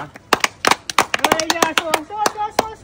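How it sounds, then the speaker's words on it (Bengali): Applause for an uncle during a bottle-matching party challenge: a burst of sharp, uneven hand claps from a small group, close and loud, with voices cheering in between. "জোরদার তালিয়া কাকুর জন্য"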